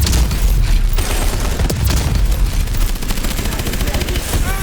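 Video-game battle in Call of Duty: Advanced Warfare: loud, sustained machine-gun fire with rapid repeated shots and booming impacts, a voice briefly heard under the barrage.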